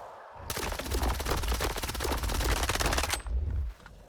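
Gunfire in STALKER 2 from a repaired weapon loaded with expansive rounds rattles out as one loud, rapid burst of closely spaced shots lasting about three seconds, then stops abruptly.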